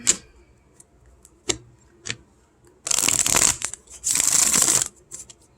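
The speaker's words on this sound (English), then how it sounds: "Some good shuffling here." A deck of cards being shuffled close up: a few sharp taps, then two quick riffling bursts of cards fluttering together.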